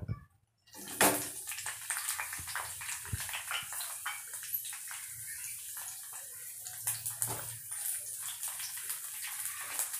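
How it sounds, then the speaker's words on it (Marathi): Green chillies dropped into hot oil, a sudden burst of crackling and popping that settles into a continuous close sizzle with sharp spatters throughout, no talking. "तेलामध्ये टाकल्यावर जरा तडतड आवाज येतो तिचा आणि अंगावर उडण्याची शक्यता असते"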